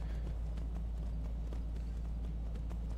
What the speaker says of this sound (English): Yo, I have a horse now.